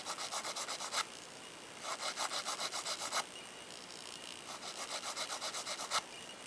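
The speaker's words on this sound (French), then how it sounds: "On lime aussi la partie un peu plus basse de l'ongle, un peu dessous." Banana-shaped curved nail file rasping across a gel fingernail, filing underneath the nail edge in close, quiet bursts of quick back-and-forth strokes with short pauses between.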